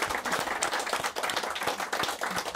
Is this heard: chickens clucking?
no